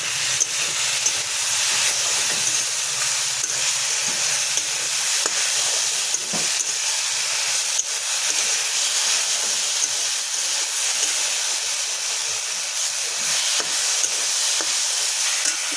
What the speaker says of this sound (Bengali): হলুদ গুঁড়ো, একটু নাড়াচাড়া করে নেব।